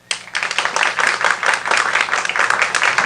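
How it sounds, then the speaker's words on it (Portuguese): Audience applause at a design thinking presentation on a university stage, dense clapping starting abruptly and holding steady, close and fairly loud. "convidamos a senhora Maria Beatriz Barbosa, a quem eu peço uma salva de palmas."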